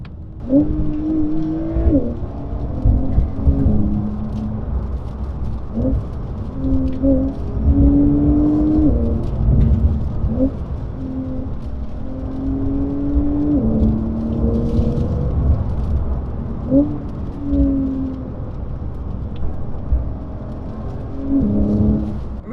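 A 2019 Porsche 911 992 Carrera 4S being driven on a road with tight corners: a steady engine drone from inside that rises and falls in pitch through repeated gear changes, under constant road rumble.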